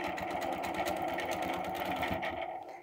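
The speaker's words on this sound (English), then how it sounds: "Now we're going to stitch across the green." A sewing machine stitching an arc across green fabric, running steadily as a fast mechanical whir with rapid needle ticks, close and clear, then slowing to a stop.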